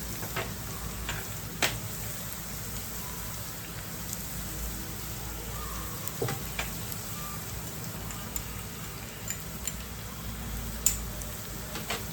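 Onion, tomato and spices frying in a pan for a dry kardi fish curry, a steady soft sizzle throughout with occasional small pops and stirring clicks, close and without talk.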